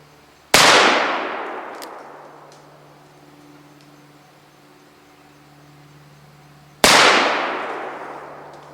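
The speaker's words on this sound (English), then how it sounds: "I've got a milk bottle set up about 15 yards away, and let's see if I can hit it with the Colt Navy." Two loud revolver shots from a Colt Navy fired at a milk bottle about 15 yards away, each a sharp crack with a long echoing decay, spaced about six seconds apart outdoors.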